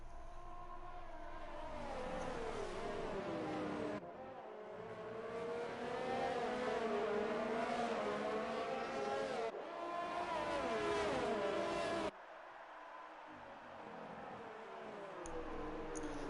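Open-wheel F1 cars in a video game league race at the Canadian Grand Prix, engines whining and shifting pitch as they rev and pass, with sharp cuts between loud sustained engine drones.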